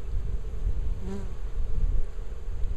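Honeybees buzz steadily and close during a spring hive inspection while a split is being made. A dense, continuous hum holds throughout with no voices.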